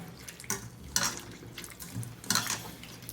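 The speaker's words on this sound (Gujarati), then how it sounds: "હવે આવી રીતે પાણીની અંદર ઉમેરી અને પાછું પાણીમાં આપણે આવી રીતે ચોળી લેવાના કારેલાને" Bitter gourds are rubbed and washed in a bowl of water, giving soft sloshing and splashing bursts with brief pauses between them, close and fairly quiet.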